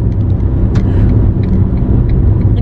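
Car engine rumbling steadily at close range inside the cabin, a low continuous drone with no clear stutter or cutout, no voices.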